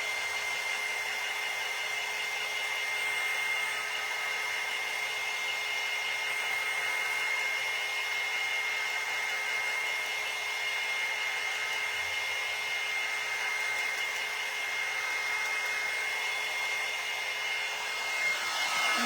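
A hair dryer blows steadily and close by for the whole stretch, drying a sprayed cinnamon dog-bone craft over a trash can, with no talking.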